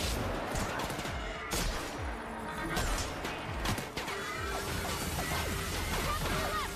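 Shooting enemies in The Outer Worlds video game: repeated loud gunshots and crashing impacts burst out in a dense, chaotic run over a busy game soundtrack.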